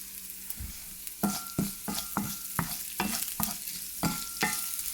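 Okra with chili and sambar powder frying in a pan, a steady sizzle punctuated by a regular series of scraping strokes as a spoon stirs, close up and without speech.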